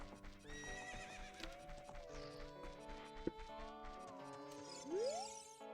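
Horses whinny and neigh in the video game The Legend of Zelda: Ocarina of Time, several calls over steady clip-clopping hooves and game music, with a sharp rising neigh near the end.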